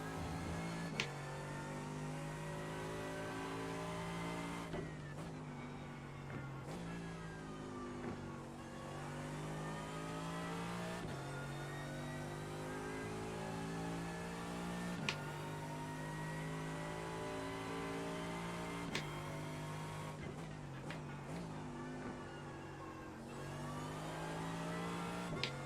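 A race car engine in iRacing revs steadily and loudly through the whole stretch, its pitch climbing and dropping with gear changes and brief lifts, with no talk over it.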